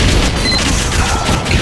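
A grenade blast in a video game, a loud, close boom with a rough crashing tail that fills the whole short moment with no talk over it.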